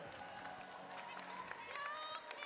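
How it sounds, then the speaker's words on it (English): A crowd applauds as the Kent Wildcats team is escorted in at a live-streamed event, a busy, far-off ripple of clapping and cheering with a voice talking over it. "Let's give a big round of applause for the Kent Wildcats."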